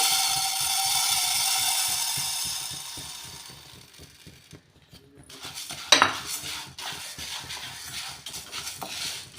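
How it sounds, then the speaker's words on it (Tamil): Green gram (moong) is dry-roasted in a pan over low flame, with a steady rush and rhythmic scraping strokes. The rush fades after a few seconds into quieter stirring with a sharp clink partway through. "பாசிப்பயிரை நம்ம இப்போ வறுத்து எடுத்துக்கலாம்"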